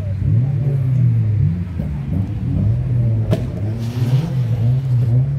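A car engine revving at a Jamaican street racing showcase in Montego Bay, loud and close, its low rumble rising and falling in repeated throttle blips, with a sharp click partway through.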